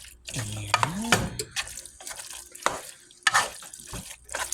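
A spoon stirs pasta and cheese together in a pot for homemade mac and cheese, giving intermittent scraping and sticky squelching strokes, close by with brief pauses between them.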